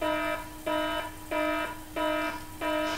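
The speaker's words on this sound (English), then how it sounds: "I gotta turn off my alarm." An alarm beeps in five evenly spaced, bright harmonic bursts, each lasting about a third of a second, steady and fairly loud with no talking.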